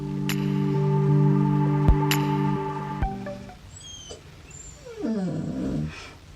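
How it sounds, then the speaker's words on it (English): A dog whines indoors, wanting to leave the room, in drawn-out, high tonal cries that waver in pitch and break into shorter yelps near the end. "My dog wanted to come in here and now she's whining because she wants to leave."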